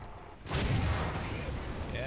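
A 17 pounder tank gun fires in War Thunder, one loud booming blast that rolls on for a couple of seconds, with a voice heard over it.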